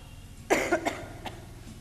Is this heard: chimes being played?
no